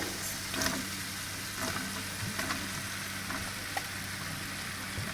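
Boiled macaroni is stirred into sauce in a hot pan, a continuous sizzling hiss with soft irregular scrapes and clicks from the spoon, steady and close.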